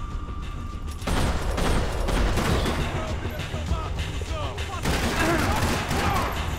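Max Payne 3 gunfire erupts during a shoot-dodge. Rapid, loud volleys of shots crackle close by almost without pause, with brief lulls in the dense barrage.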